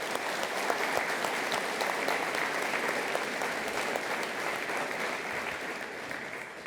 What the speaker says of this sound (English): A round of applause for those two guys.